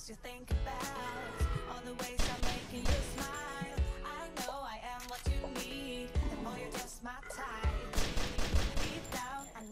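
Gunfire from shooting zombies in the mobile survival game ZIC: Zombies in City, with repeated sharp shots punching through a busy bed of game music and effects.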